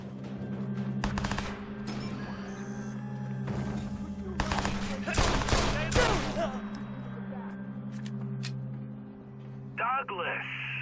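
Gunshots in Watch Dogs ring out in a few sharp bursts of rapid fire amid a humming in-game soundscape, with characters talking around them.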